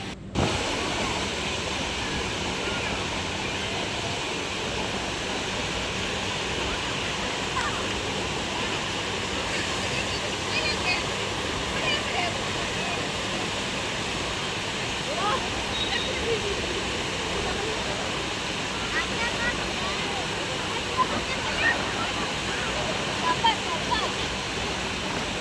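Sea waves at Digha beach make a steady, unbroken roar of surf, loud and close, with no clear breaks between the waves.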